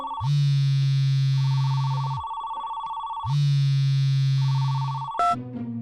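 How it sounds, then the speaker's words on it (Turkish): A telephone rings loudly in two long bursts separated by a pause, with a short click or handset pickup right at the end; no one speaks. "Ah, telefon çalıyor."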